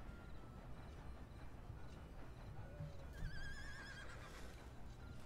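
Horse in the open-world Western video game Red Dead Redemption 2 whinnies loudly over a steady bed of game ambience, with a clear neigh near the middle and hoof clops around it.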